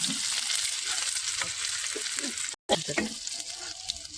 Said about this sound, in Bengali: পুরো একদম তেল দিয়ে দিচ্ছি, আর পেঁয়াজগুলো ভাজা যাচ্ছে